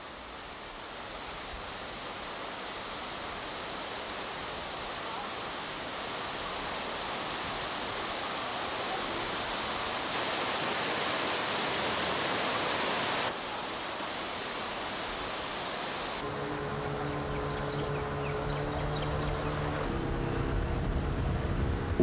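A waterfall pouring over black rocks in Mauritius makes a steady, broad rushing roar that continues evenly throughout, with a faint mechanical hum joining in near the end.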